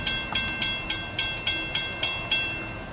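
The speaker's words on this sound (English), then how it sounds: "And there it goes, the AMTRAK 79 southbound" Amtrak 79 southbound passenger train rolling past in the rain, its wheels beating a steady clickety-clack rhythm of regular rail-joint clunks over a constant rumbling wash.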